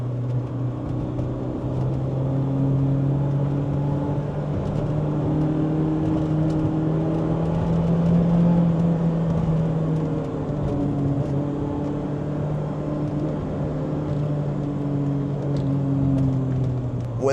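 A BMW E30 M3 is driven hard through corners, its engine a steady, close drone that rises and falls in pitch as the car works through the bends, with no one speaking.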